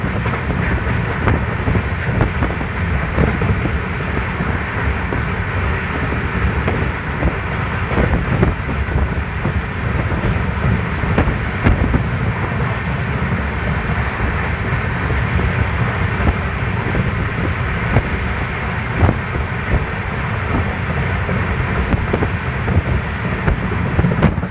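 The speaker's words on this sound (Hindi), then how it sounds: "अपनी ट्रेन पहुंची है सोजत रोड स्टेशन पर।" The 14801 Jodhpur–Indore express running at about 120 km/h through the Aravalli hills, heard from on board as a continuous loud roar and rumble of wheels on rail mixed with rushing wind, with faint clicks now and then.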